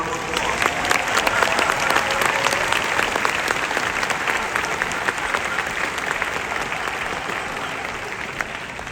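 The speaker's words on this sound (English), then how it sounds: "Chesapeake Hall, a round of applause." A graduation ceremony audience fills Chesapeake Hall at UMBC with sustained, dense applause that stays loud and even throughout.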